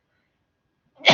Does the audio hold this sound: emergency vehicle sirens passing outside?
no